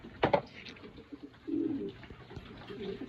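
Pet pigeons coo softly, with low rolling calls repeated a few times, close by and fairly faint, preceded by a brief rustle, with no talking.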